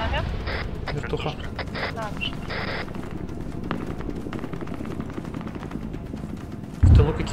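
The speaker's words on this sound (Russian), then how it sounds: "В тылу какие-то выстрелы." Gunfire sounds from the rear in the video game ArmA 3, scattered sharp shots at a distance with a heavier thump near the end, under ongoing talk.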